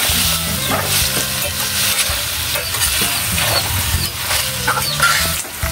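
Pork frying in a pan is stirred repeatedly, a loud continuous sizzle with scraping and clatter from the utensil running throughout.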